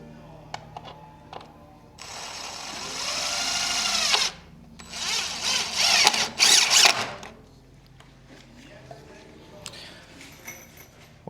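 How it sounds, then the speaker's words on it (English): An impact drill drives screws while a JELD-WEN impact window is installed in a concrete block opening, with two loud bursts of whirring, ratcheting hammering separated by short pauses and scattered clicks and handling noises. "an impact drill is way easier to use on this project"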